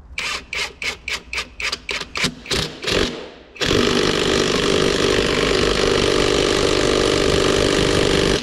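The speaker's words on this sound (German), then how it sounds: "die wird jetzt auch wieder mit einem Schlagschrauber angezogen" A Makita-replica impact wrench tightens an axle nut on an IHC 733 tractor's ZF axle. About a dozen loud, short hammering bursts come in quick rhythm, then one long continuous rattling run, with no talking.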